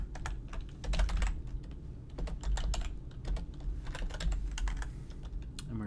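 Someone types C# code on a computer keyboard, producing a rapid, uneven patter of soft key clicks close by over a low background hum, with no talking.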